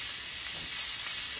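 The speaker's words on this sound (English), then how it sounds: "I'm just going to cook this one hamburger patty" A hamburger patty fries in a pan with a steady, close hiss of sizzling fat and no breaks.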